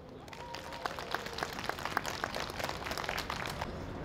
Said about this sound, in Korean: 자, 2018년도 가을 그리고 마무리를 위해서 박수!